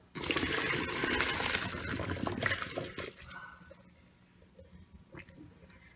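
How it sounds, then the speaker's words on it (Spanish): Softened cooked vegetables and their water poured into a kitchen colander, a loud, close gushing splash for about three seconds that fades into faint dripping and trickling. "Ya la tengo lista y la voy a pasar por un colador."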